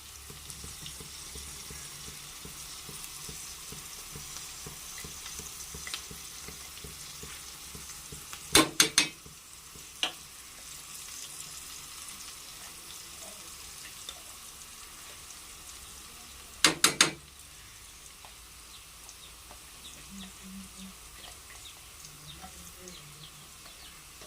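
Bitter gourd pieces fry in a pan with a soft continuous sizzle, broken by two brief loud bursts of scraping or stirring, without talk.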